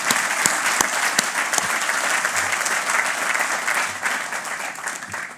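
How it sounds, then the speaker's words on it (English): A room full of people applauds at a Department of Corrections fiftieth anniversary event, dense and steady clapping that holds loud throughout the moment. "How about a round of applause?"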